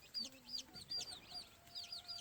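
An old brown red gamefowl hen, mother of a freshly hatched brood, gives a series of soft, close clucks and chirpy calls in quick irregular bursts, with faint high peeps mixed in.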